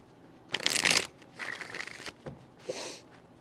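Tarot cards are shuffled in several quick riffling bursts, close and crisp, the first loudest, followed by two softer passes with brief pauses between.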